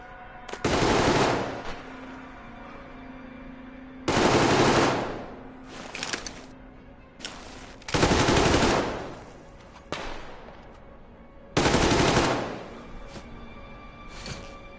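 Bursts of automatic gunfire in the Metro Exodus video game, four loud sustained volleys with shorter single shots and quieter gaps between, close and harsh with no talk.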